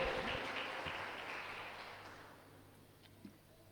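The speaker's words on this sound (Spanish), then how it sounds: "Podemos dar un aplauso al Señor esta noche" Applause from a church congregation, loudest at the start and gradually fading over a few seconds, with no talking.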